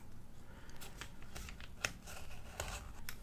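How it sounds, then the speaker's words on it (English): Crisp snipping and slicing of paper with scissors on a junk journal page, a few sharp cuts among soft rustling and crinkling, close by with no talking. "Whoops, I'm cutting into that paper."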